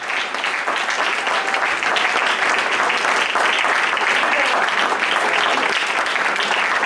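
A church congregation clapping steadily and loudly, a dense continuous wash of hands that holds at an even level throughout with no pauses.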